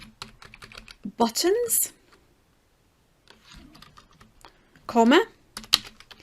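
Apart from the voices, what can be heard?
typing on a computer keyboard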